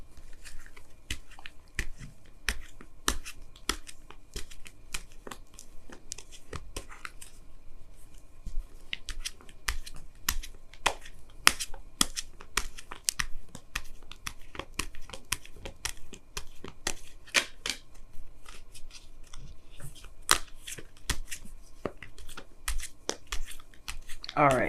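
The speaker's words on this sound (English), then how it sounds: "Let me go ahead and pull you guys your Wisdom of the Oracle card for the week." A tarot reader shuffles and draws an oracle card from the deck for a weekly reading: a steady run of soft, crisp card flicks and slaps, close and moderately quiet, with occasional louder snaps throughout.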